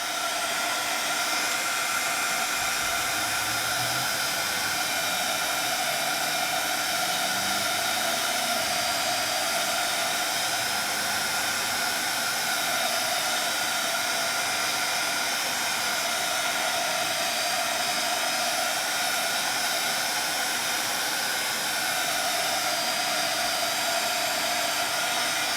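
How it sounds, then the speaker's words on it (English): A craft heat tool blows steadily while drying paint on a paper background, producing a loud, unbroken whooshing hum that holds at the same level throughout. "as it dries, if you want, you can take a heat tool to it to dry it a little faster."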